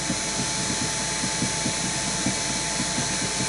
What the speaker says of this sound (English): First I'm going to get my sharp chisel to make a straight cut on that.